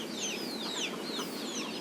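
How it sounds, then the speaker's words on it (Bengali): A black-chested hen clucks in a series of short, repeated calls at a steady rhythm, fairly close and clear against quiet farmyard background, with no talking. "আর আমার কালো সিনা মুরগি।"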